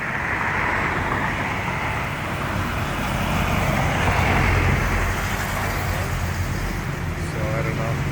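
Dense road traffic in the Philippines, with a passenger van among the vehicles, heard as a steady loud roar of engines and tyre noise that continues throughout.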